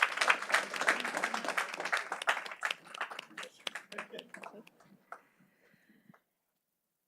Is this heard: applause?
yes